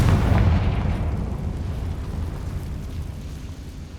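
A Confringo spell explosion in Hogwarts Legacy gameplay, a loud deep boom at the start that rumbles and gradually fades over a few seconds.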